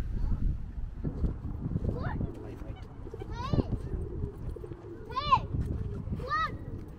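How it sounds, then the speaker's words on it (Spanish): Birds at a lake give scattered cooing and chirping calls, some near and clear, amid footsteps and background chatter as people talk nearby. "¡Patos y pájaros! Estos no tienen miedo para nada."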